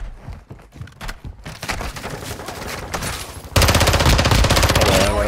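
Rapid automatic gunfire in a video game shooter match, dense bursts that swell into a loud, sustained fusillade in the final seconds, with no speech over it.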